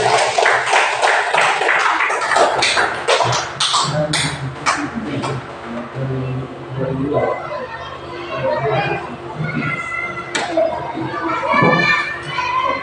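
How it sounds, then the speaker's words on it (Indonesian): Children clap together at a religious lesson after a closing prayer, a dense burst of uneven hand claps over excited young voices and chatter; the clapping is strongest at first, then gives way to lively kids' talk and shouts. "Beri tepuk tangan untuk Muhammad kali."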